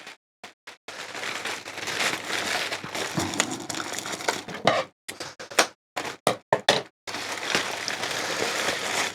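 Packaging is pulled apart and unwrapped while a rattle-can parcel is unboxed, giving bursts of close crinkling and rustling with short silent gaps between handfuls.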